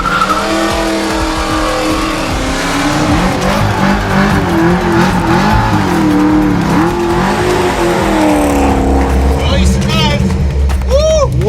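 An LS-swapped car on a road test revs hard and close, its V8 note rising and falling through gear changes, with tires squealing near the end.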